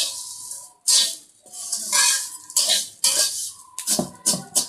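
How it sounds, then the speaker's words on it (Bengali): Vermicelli frying in a pan with a little oil, stirred in repeated bursts of dry scraping and rustling, with short clattering pauses between strokes. "ঝরঝরি সিমাই রান্নার জন্য কিন্তু আমি সিমাইটা আগে ভেজে নেব"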